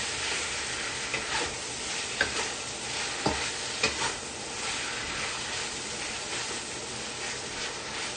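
Beef searing in a hot pan to form a crust, a dense continuous hiss and crackle up close, with a few sharp spatula taps and scrapes standing out over the steady sizzle.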